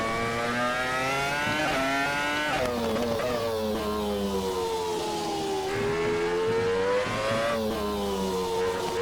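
A Renault R25 Formula 1 car with a 3-litre engine of nearly 1000 horsepower screams through gears in a racing game. The high, harmonic-rich whine climbs and drops with each shift and throttle lift, steady and loud, with no talking.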